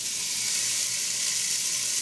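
Steady, loud sizzling fills the clip, an even hiss of pork chops frying in a hot pan with no pauses.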